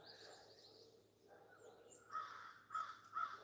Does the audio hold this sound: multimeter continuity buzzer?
no